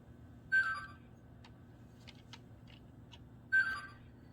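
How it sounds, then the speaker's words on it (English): Lionel LionChief Hogwarts Express O-scale train engine on powered track sounds an alert because its remote is not connected: two short bright tonal beeps about three seconds apart, with faint clicks between and a low hum underneath. "That noise is letting you know that the engine cannot recognize that your remote is connected"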